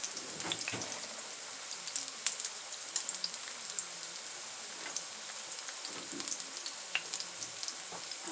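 Salmon frying in a pan, a continuous crackling sizzle with dense popping spatter, steady and fairly quiet with no voices.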